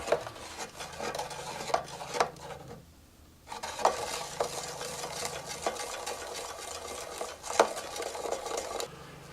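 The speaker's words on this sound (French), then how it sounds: "Et on mélange pendant au moins 10 minutes." A giant bubble solution is stirred in a container, giving continuous scraping and swishing with light knocks of the utensil against the sides, close and steady with a brief pause.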